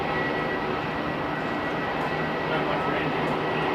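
A Singapore Airlines Boeing 777 arriving at Melbourne Airport produces a continuous broad engine roar at moderate distance, with people talking over it.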